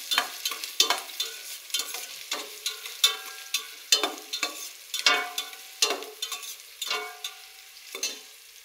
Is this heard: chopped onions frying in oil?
yes